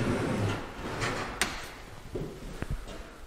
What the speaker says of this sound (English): Not quite a pocket door, but sliding door anyway.